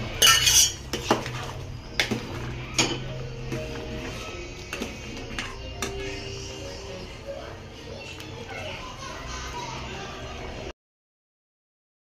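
A ladle stirs vegetable sambar in a metal pot, scraping and clinking against the sides with a few sharper knocks early on, close and fairly loud over a low steady hum, with no voices.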